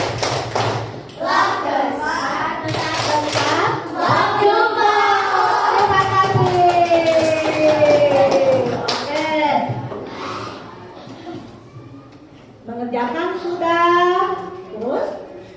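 Schoolchildren in a classroom do a rhythmic clapping chant led by their teacher; quick taps and thumps come in patterned bursts under near, continuous talking and children's voices.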